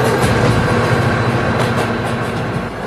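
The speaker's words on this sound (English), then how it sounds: "Oh my god, train!" A train passing close by, with a steady loud rumble and faint rhythmic wheel clatter running through the whole stretch and no voices.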